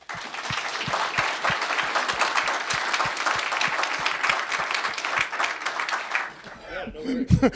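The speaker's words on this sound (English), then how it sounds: "Round of applause, please." Audience applause at a truck driver training conference, with steady, vigorous clapping from a sizable crowd lasting several seconds before fading out into brief voices and handling noise.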